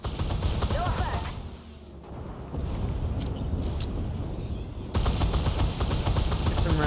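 Autocannon fire from an XM247 Sergeant York in the Armored Warfare game comes as dense, continuous rapid bursts with a brief lull in the middle. The shots are loud and close, layered with mechanical clatter and impact noise.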